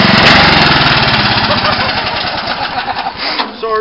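Lawn tractor engine revving hard during wheelies, a loud, close, rough pulsing drone that holds steady then wavers and eases slightly toward the end.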